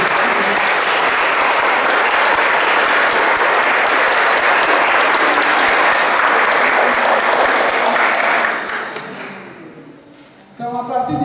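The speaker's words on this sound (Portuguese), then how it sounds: "Então vamos aplaudir por este novo CAEP." A church congregation applauds the installation of a new parish council, loud sustained clapping that fades out near the end before a voice begins.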